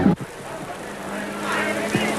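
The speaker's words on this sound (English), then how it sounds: "The rain is now hitting the commentary booth so hard, you can hear it." Heavy rain drums on the roof of a commentary booth at the 1992 Bathurst motor race, a steady dense hiss running throughout with a brief voice-like sound near the start.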